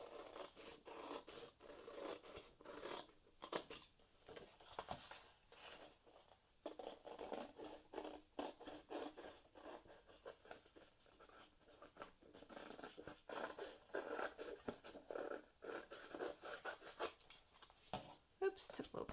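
Scissors snip around the edge of paper cut from a vintage cookbook, a close, quiet, irregular run of short cuts and paper scratches with brief pauses.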